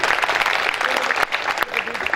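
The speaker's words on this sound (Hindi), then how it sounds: "हमारी सम्मान की तालियां एक बार बाबूजी तक पहुंचे" Dense applause fills a hall as the audience honours an elder at a Jain temple gathering, an even wash of clapping close by with a couple of brief dips.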